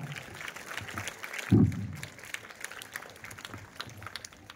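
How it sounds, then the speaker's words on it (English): Clapping from a crowd fills the whole stretch as steady, moderate applause, with a brief louder thump partway through. "Please welcome him with a huge round of applause, everyone."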